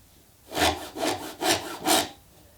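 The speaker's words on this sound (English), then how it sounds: "They were scratching with their little claws." Unhatched chicks scratching at the inside of their shells with tiny claws, four evenly spaced dry rasping strokes, close and fairly quiet, with no voices.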